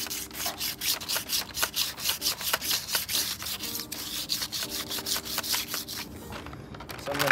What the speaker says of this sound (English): So I need to sand it down because it is not as smooth